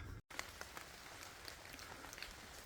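Steady rain patters on the surface around a walker on the Cotswold Way in England, a dense, even hiss with scattered close drop ticks after a brief dropout at the start.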